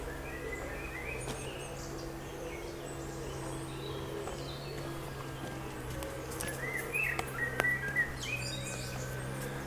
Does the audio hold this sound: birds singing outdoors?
yes